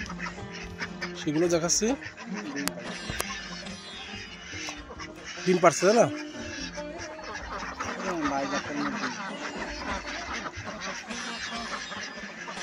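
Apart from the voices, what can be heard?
Belgian/Pekin ducks quacking on a farm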